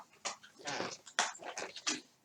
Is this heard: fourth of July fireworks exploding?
no